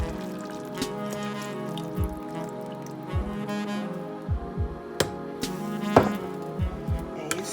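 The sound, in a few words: pouring cream solution into pan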